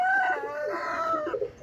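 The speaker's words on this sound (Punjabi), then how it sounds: "ਇਹ ਕੋਲ ਕੁੱਕੜਾਂ ਦੀ ਆਵਾਜ਼ ਆ ਰਹੀ" Roosters crowing close by, with a long drawn-out cock-a-doodle-doo and some clucking near the end, heard at a farm or roadside stop in Muhayil, Asir, without speech over it.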